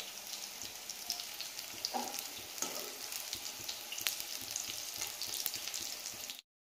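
Pakoras frying in hot oil give a steady, close crackling sizzle with sharper pops scattered through it. A soft stirring scrape comes in partway through, and no one speaks.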